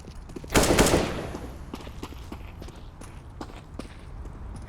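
Gunfire in Counter-Strike: Global Offensive during a professional match, with a loud burst of shots near the start followed by softer scattered shots and footsteps over the rest of the round.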